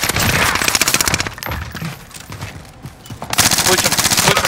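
Rapid automatic gunfire in the Warzone Caldera battle royale game, shots fired through a wall in loud dense bursts that ease briefly before resuming, with players shouting over it.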